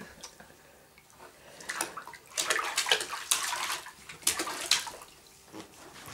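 Water sloshing and splashing in a bathtub as someone moves around in it at home, irregular close splashes rising and falling in bursts.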